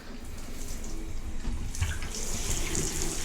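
Water runs steadily from a tap into a sink during cleaning, a continuous rushing splash at moderate level with faint clinks of handling near the end.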